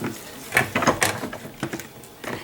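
A new stand mixer pulses whole wheat bread dough in short irregular bursts of mechanical whirring and clunking, fairly close and moderately loud, with quieter pauses between pulses.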